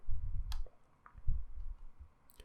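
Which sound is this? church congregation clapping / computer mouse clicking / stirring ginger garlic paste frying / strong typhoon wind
computer mouse clicking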